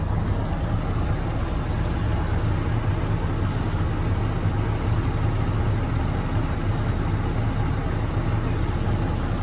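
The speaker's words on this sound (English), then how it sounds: "I'm gonna leave the truck running in this case" A Class A truck idles with its parking brakes set, a steady low engine rumble that holds at an even moderate level throughout, close by and alone, with no talk over it.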